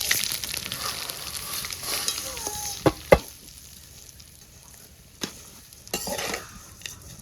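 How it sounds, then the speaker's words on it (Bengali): Vermicelli (semai) fries in ghee with cinnamon, cardamom and bay leaf, giving a soft steady sizzle with occasional stirring scrapes and a few sharp clicks of a spoon against the pan, fairly close and with no talk. "লাল লাল করে সেমাইটা ভাজে নেব।"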